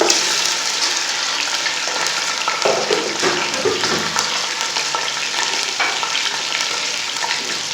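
About a kilo of chicken sizzles and spatters in hot ghee in a pot, giving a steady, dense frying hiss with occasional stirring scrapes, close and continuous without speech.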